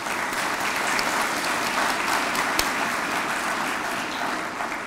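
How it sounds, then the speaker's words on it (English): Steady, even applause from an audience at an academic excellence awards ceremony, a dense wash of many hands clapping at a moderate distance, with no talking over it. "So we'd like to give them an applause."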